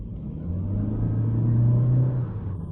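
A Toyota Corolla Touring Sports hybrid accelerating from inside the cabin, a steady low engine and road rumble that swells smoothly and holds a sustained hum before easing, with no talk over it.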